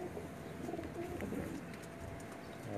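Pigeons cooing in a rooftop loft in Jeddah, a soft continuous low murmur of several birds, steady and fairly close, with no talk over it.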